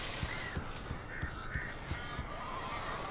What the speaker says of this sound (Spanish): Salva a Barry de los pájaros.